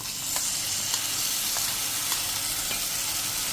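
Spiced yogurt masala sizzles steadily in a pan over a low flame while making a tangy green chilli dish, a continuous close frying hiss with faint crackles and no voices.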